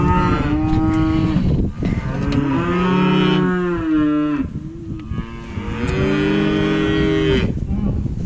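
A bull calf being worked with cattle moos repeatedly, loud and close, with long drawn-out bawling calls separated by brief pauses.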